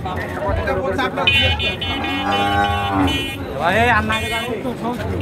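Cattle low with drawn-out moos at a busy rural cattle market in Naogaon where heifers are sold, the calls rising over a steady crowd din while people talk nearby.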